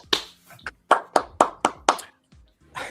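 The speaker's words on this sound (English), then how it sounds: "Round of applause to all of you guys." Round of applause after presentations, a short burst of sharp hand claps from a few people, uneven and spaced out, fading after a couple of seconds, with faint voices beneath.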